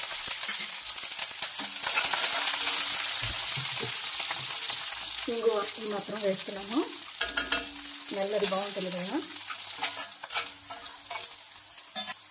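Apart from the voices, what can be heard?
mustard seeds, chana dal and spices frying in oil tempering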